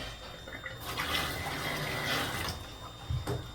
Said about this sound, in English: Now that there's water pressure in there, it's got the shut off at the right spot. Turns on and off good.